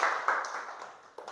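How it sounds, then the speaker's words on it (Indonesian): Classroom applause for the whole class during an Indonesian primary school lesson, a short burst of clapping that fades over about a second, with a fresh clap near the end. "Tepuk tangan untuk semuanya."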